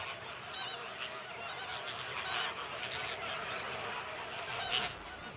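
A Caribbean flamingo colony calling, with dense, continuous honking and goose-like calls from many birds at once, loud and unbroken, and no talk over it.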